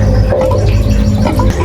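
Water rushing out of a household water pressure tank being drained, a loud continuous gushing and gurgling flow with a low rumbling undertone.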